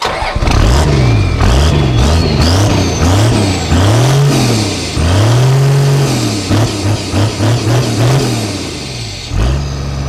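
A 12 HT engine cranks, catches and runs, then gets revved hard over and over in rising and falling surges, loud and close throughout, settling back to a steady idle between blips with no voices.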